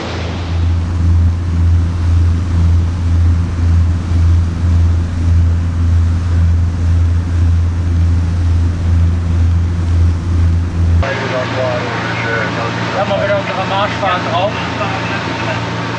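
Motorboat running at speed toward Scheveningen with its canopy partly lowered, a loud steady engine drone and rushing water and wind; the low engine hum drops out near the end, leaving washing water noise.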